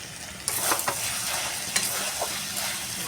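Chicken mince and potatoes being sautéed for a curry with coriander leaves: a loud continuous sizzle close up, with several quick scraping stirs of a spoon.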